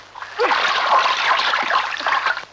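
Water splashes loudly and continuously near at hand as someone plays in it, a busy irregular spatter lasting a couple of seconds.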